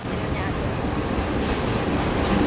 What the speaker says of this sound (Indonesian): itu tadi lokomotif kereta api Sangkuriang